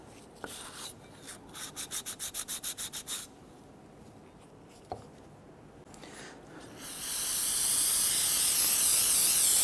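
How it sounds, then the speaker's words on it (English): Old gasket material being scraped off the engine of a 1992-1996 Toyota Camry 2.2L four-cylinder during a water pump replacement: bursts of rhythmic rubbing strokes, a few sharp ticks, then a steady loud spray hiss at the end. "We just want to clean off any of the old gasket that might be there causing a possible sealing problem down the road."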